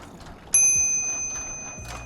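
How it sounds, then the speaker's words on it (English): A small dinger bicycle bell rings once with a bright, sustained metallic tone that slowly decays, then a faint second tap, heard during the Richmond Marathon amid soft outdoor background noise. "These little dinger bells are highly useful."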